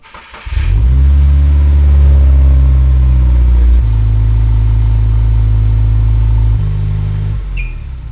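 A Subaru WRX with an FA20 engine and a leaking aftermarket exhaust revs loudly and close by, holding a steady rumbling drone for several seconds, dropping in pitch partway through, then easing off near the end.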